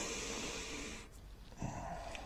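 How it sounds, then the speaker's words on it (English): A quiet sniff close to the mic at very light, airy puffed crisps to smell them: a breathy inhale, a pause, then a second short snuffle. "Let's have a sniff."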